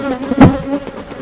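Honeybees from a recently hived swarm give a loud, close buzz that swells to a peak and fades within about a second, with no voices.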